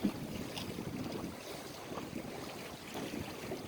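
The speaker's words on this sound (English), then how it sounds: "You can hear us rushing through the water though." A sailboat rigged with a mizzen rushes through the water on a reach, giving a soft, steady wash and swish of water along the hull with faint wind, close and continuous.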